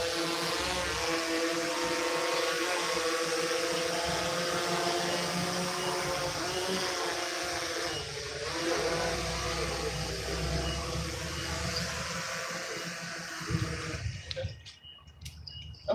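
A remote-controlled drone flying, its steady high whirring buzz of rotors holding strong and continuous before cutting off abruptly near the end.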